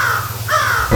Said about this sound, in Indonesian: Apa kita akan memberkahi gagak aneh itu Raden?